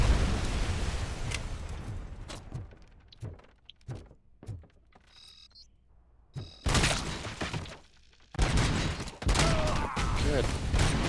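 Grenade explosions and gunfire in the video game Robocop Rogue City come as sharp bursts and a few louder blasts, split by quieter gaps with a voice over them.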